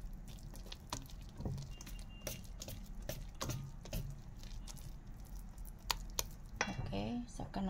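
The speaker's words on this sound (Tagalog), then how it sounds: "Tapos haluin natin." Banana chocolate chip cupcake batter is stirred in a bowl, the utensil scraping and clinking against the sides in quiet, irregular strokes, with a few sharper knocks near the end.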